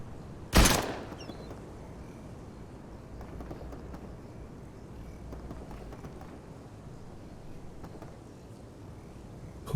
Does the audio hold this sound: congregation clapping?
no